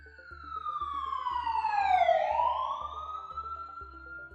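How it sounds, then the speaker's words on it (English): An ambulance siren wails as the vehicle passes, its rising and falling tone growing louder on approach, then sliding down in pitch and fading as it moves away, with a steady rhythmic pulse underneath. "the pitch gets higher as the ambulance gets closer, and the pitch becomes lower as the ambulance moves away from us"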